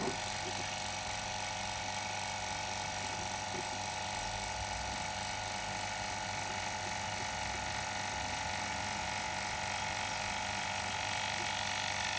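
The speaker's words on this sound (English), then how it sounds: "Let's pull a vacuum on this system now." A vacuum pump pulls down the air-conditioning system of a Range Rover L322 3.6 TDV8 with both high and low sides open, giving a steady, continuous mechanical drone with faint ticking, close and unchanging throughout.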